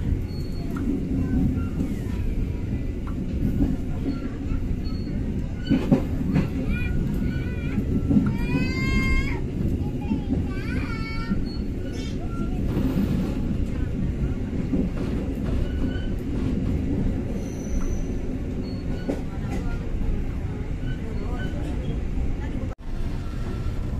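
The KA Siliwangi passenger train, hauled by a CC 206 locomotive on the hilly Sukabumi–Cianjur line, rumbles continuously from inside the carriage, with wheel squeals on curves and a person talking over the steady noise.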